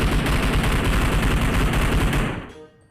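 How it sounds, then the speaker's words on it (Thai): Dense, rapid gunfire inside a house in PUBG Mobile rattles continuously at close range, a loud burst of shots that cuts off and decays into a short echoing tail. "เสียงเหมือนยิงอยู่ในบ้านครับ"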